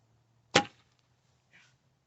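A single sharp arrow release from a bow, a quick twang and whoosh, followed a second later by a faint distant thud.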